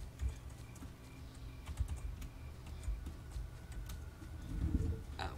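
Someone types on a new computer keyboard while playing Ghost Recon: quick, close, uneven key clicks and taps continue for several seconds under quiet game sound.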